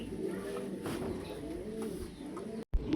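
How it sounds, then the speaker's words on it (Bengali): Fancy pigeons of foreign breeds, a male and female pair, coo steadily and close by in low, throaty rolling phrases that run through the whole stretch, ending in a brief cut. "দেখেন কবুতরের কোয়ালিটি দেখেন ভাই"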